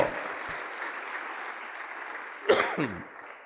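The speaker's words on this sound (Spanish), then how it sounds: "denle fuerte las palmas al Señor Dios Todopoderoso" A congregation at an evangelical church service claps steadily for God, a broad even wash of applause that fades slightly before a voice breaks in near the end.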